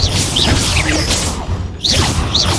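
An Expelliarmus disarming spell fires in the Hogwarts Legacy video game with swooshing, crashing bursts and mechanical clatter, set in a continuous bed of loud in-game sound with a brief lull in the middle.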